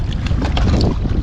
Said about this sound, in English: The wind's blowing really bad.